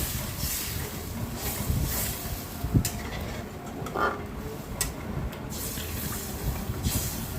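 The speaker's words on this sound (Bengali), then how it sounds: "এবার আমি এখানে জল দিয়ে দিলাম পরিমাণ মতো" Water is poured into a pan of cooked-down spices for a Bengali pabda fish curry, making a steady rushing splash and hiss over a busy background with a few clinks, and no speech.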